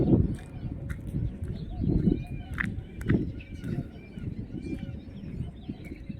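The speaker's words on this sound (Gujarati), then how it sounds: "અલગ અલગ મિત્રો પક્ષીઓનો અવાજ તમને સંભળાઈ રહ્યો હોય છે" Birds calling around a village on a winter morning walk in the hills, with crow-like caws and chirps over footsteps and someone talking nearby.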